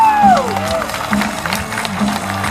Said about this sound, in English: There's a man clapping his heart out over there.